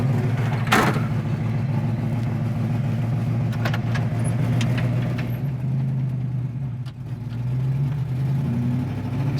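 A 1965 Ford Mustang Fastback engine cranking briefly then settling into a steady, deep, rumbling idle up close, with slight shifts in pitch as it runs alone.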